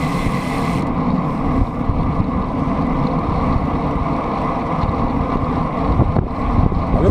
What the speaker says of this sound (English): I love the sound of carbon wheels.